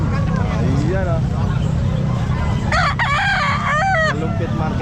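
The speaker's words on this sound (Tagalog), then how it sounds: "Makakita kayo ng murang manok." Roosters crow repeatedly at Calumpit pet market, with several long, wavering calls standing out over a constant low hum of engines and crowd noise. Someone talks throughout.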